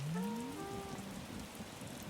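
Soft, steady rainfall patters in the video game Animal Crossing: New Horizons, faint and continuous, with a brief rising melodic tone at the very start.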